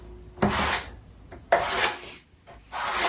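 Grain filler spread by hand across oak kitchen cabinet wood, heard as three slow, steady rasping rubs, each a broad scraping swipe with short quiet pauses between, close and alone.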